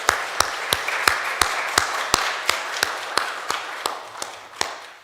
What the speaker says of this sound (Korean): 우리 그레이스 비전 교회 성령학교 교우들 격려하는 마음에서 함께 박수했으면 좋겠습니다.